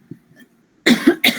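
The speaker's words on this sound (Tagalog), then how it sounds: "Inuubo na ako." Three coughs in quick succession from a woman in an indoor discussion, near and loud after a brief quiet stretch.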